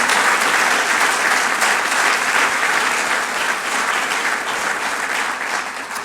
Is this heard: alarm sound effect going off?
no